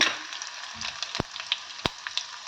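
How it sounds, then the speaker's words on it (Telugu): Mustard seeds, cumin, coriander, dried red chilies and fenugreek sizzle in hot oil, giving a soft, steady frying hiss with sharp pops and crackles. The sound is close and fairly quiet, with no talking. "ఆయిల్ వేడయ్యాక ఆవాలు, జీలకర్ర, ధనియాలు, ఎండుమిర్చి, మెంతులు"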